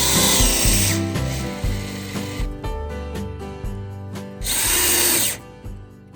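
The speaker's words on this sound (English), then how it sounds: "Next is to attach the metal plate to the wood using wood screws." A power drill drives wood screws to fasten a metal plate onto wood, running in loud whirring bursts that start and stop several times, with short pauses between runs.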